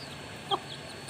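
A single short chicken cluck, fairly faint, over a steady background hiss.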